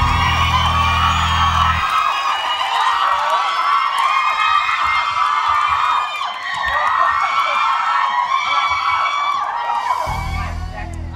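A studio audience at a Thai game show screams and cheers in a continuous high-pitched wave of shrieks and whoops, loud and close, with a deeper crowd roar swelling at the start and end.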